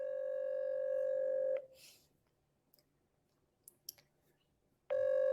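A phone places a call: a steady dial-type tone, a pause with faint clicks, then the tone returns, heard alone and fairly loud.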